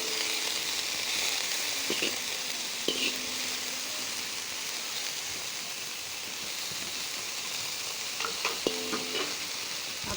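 Chicken-roll filling sizzles and fries in a pan until light brown, a steady close hiss running throughout with occasional soft stirring clicks and taps.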